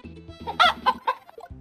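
Cartoonish video game chicken in a retro romhack, a few quick squawking honk-like clucks in a short burst over a looping chiptune bass pattern.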